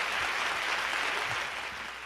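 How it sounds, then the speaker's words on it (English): A small audience at an organ demonstration applauds, giving a steady, even wash of clapping that stays fairly faint and distant and eases off slightly toward the end. "One more round of applause."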